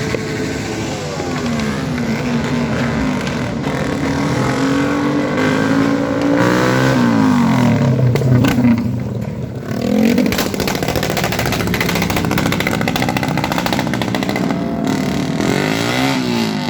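A noisy vehicle with a broken muffler revs its engine loudly and continuously, a harsh raw roar rising and falling in close range with a brief dip midway, people talking faintly underneath.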